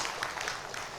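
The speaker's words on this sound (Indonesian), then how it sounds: "boleh tepuk tangan untuk kita semua" Audience applause at a Nahdlatul Ulama branch meeting in Bekasi, a steady wash of clapping from a crowd that stays even and moderately loud throughout the short stretch.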